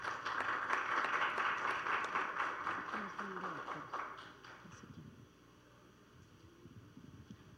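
Audience applause for a juror at a youth debate contest: a dense patter of clapping that swells for about four seconds, then thins and fades into a quieter room.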